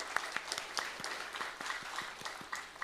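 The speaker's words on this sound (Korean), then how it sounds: "우리 사이남성교회 다시 한번 우리 감사와 격려의 박수 보내드리기 원합니다" A congregation in a church Friday worship service claps together, a steady patter of many hands at moderate volume, slightly distant and even throughout.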